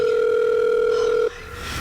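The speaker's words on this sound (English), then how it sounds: "Okay, it's ringing." A telephone ringback tone drones steadily in the earpiece while a caller waits for an answer, a loud continuous hum that cuts off abruptly near the end, leaving faint background noise.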